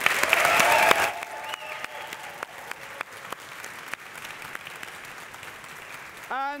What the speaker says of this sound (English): can I just have a massive round of applause for all tonight's speakers?